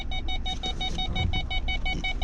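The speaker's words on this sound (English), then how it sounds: "His buzzer goes off when his tailgate's down." A pickup truck's warning buzzer sounds because the tailgate is down, a rapid, regular series of short electronic beeps repeating close by, loud and continuous with no talking.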